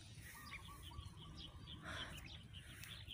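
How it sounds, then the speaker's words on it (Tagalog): Faint birds chirping in short, scattered calls over a steady low outdoor rumble, somewhat distant. "Hindi yan, mga huni ng ibon."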